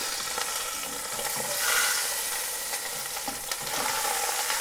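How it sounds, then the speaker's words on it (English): Beef pot roast searing in a Le Creuset Dutch oven, a steady broadband sizzle and spatter running throughout with a few brief stirring scrapes, close and moderately loud, no voices. "We're just going to brown it on all sides and then take it from there."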